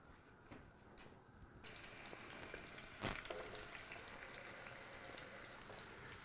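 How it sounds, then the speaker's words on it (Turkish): Potatoes, soaked, drained and dried, sizzle in a pan of hot oil, a quiet continuous crackling hiss with a brief louder spatter midway. "Evet, patatesleri de kızartmaya başladık."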